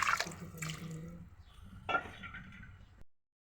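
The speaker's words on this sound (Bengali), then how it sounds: "এখন এর মধ্যে পরিমাণ মতো পানি দিয়ে দিচ্ছি।" Water is poured into a cooking pot of spiced meat with ground pepper and cumin, giving a close, steady splashing trickle with a brief louder gush near the end before it stops.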